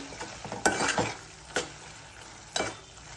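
Chili powder being stirred into tomatoes frying in a pan for a tomato egg curry, a low sizzle with three distinct scraping strokes of a spoon against the pan, close and clear without talk.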